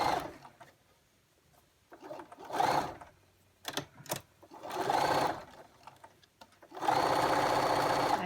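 Sewing machine topstitching face mask fabric runs in several close bursts of rapid mechanical whirring and needle chatter, separated by short pauses, with the longest burst at the end.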